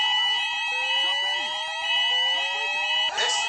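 A mall fire alarm sounds steadily with a continuous high electronic tone and pulsing beeps, while a recorded voice evacuation message plays over it, telling occupants to leave.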